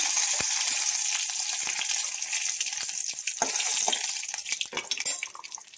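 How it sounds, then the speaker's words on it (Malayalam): Mustard seeds and curry leaves sizzle in hot oil for a homemade ambazhanga pickle, a steady bright crackling hiss with scattered pops throughout, loud and close, easing off slightly at the end. "എണ്ണയൊക്കെ ചൂടായി നമുക്കിനി കടുകിട്ട് കൊടുക്കാം കറിവേപ്പിലയും"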